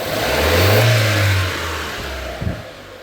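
A Mitsubishi Lancer engine, heard from the driver's seat, is revved to high RPM in a loud swell lasting about a second and a half. It drops back to a steady idle, followed by a brief blip.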